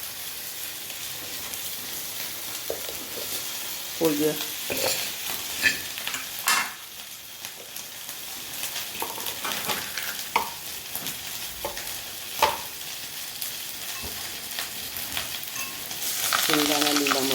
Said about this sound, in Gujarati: હવે આપણે વઘારીશું ખીચડી